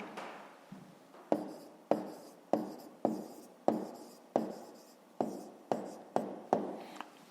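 Pen writing an answer on paper, a series of about a dozen sharp, close strokes and taps in an uneven rhythm, heard alone without talk.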